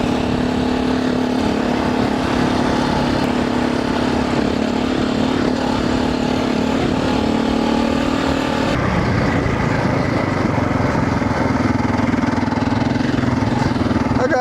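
A motorcycle engine runs steadily throughout, shifting to a rougher, different tone partway through, while the bike cruises along for saddle time ahead of racing.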